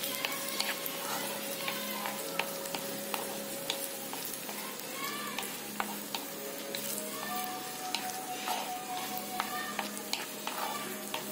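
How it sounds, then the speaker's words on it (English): Tomatoes cook in a pot for misal with a constant close sizzle and frequent small ticks and scrapes as the mixture is stirred. "Now time to add the tomato in it. We'll cook the same till it starts leaving the sides of the"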